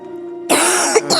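A person coughs hard in a few loud, close bursts, a long harsh cough followed by a short second one, with a faint hum before them.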